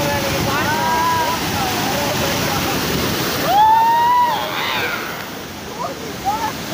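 Rain-swollen water from a waterfall rushes and pours steadily downhill, a loud continuous broadband roar close by, with someone talking over it and faint chirping tones above.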